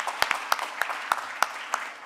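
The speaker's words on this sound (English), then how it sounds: "So let's give her another round of applause." Sparse, hesitant applause from a small audience at an academic panel on politics, a handful of distinct claps spaced about every third of a second over a faint room wash, fairly close and moderately loud.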